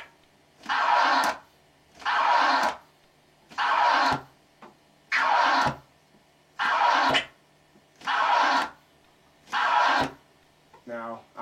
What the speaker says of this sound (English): So with cutting, we're using the fader to eliminate the back scrape sound